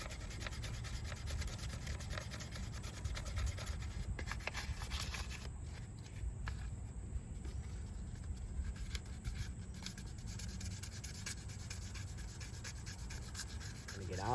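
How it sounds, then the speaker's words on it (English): Sandpaper rubbing over cracks on car brake calipers before painting, a faint continuous scratchy scrubbing up close. "Get all these cracks sanded down before I paint them."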